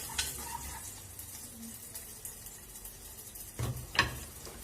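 Rice stir-frying in a salted pan gives a faint, steady sizzle, with a couple of sharp utensil knocks against the pan near the end.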